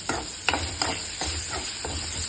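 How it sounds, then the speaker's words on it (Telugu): Onions frying in a pan after a hing tempering, with a steady close sizzle and hiss broken by several soft scraping stirs about every third of a second. "ఆనియన్ వేసుకొని ఆనియన్ కూడా బాగా వేగనివ్వాలి"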